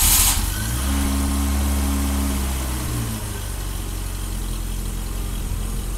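A 39-year-old BMW E30 cold-starts after sitting five days in cold temperatures, its engine catching with a brief burst and settling into a steady, close, low idle hum with no voices.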